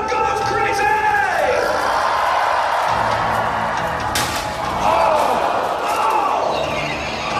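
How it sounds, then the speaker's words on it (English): A crowd at a full contact jousting match at the Pacific National Exhibition erupts in loud yells, whoops and bellowing cheers, with rising and falling shouts and a sharp impact-like burst midway. "The crowd goes crazy!"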